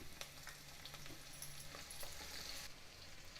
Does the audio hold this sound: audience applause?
no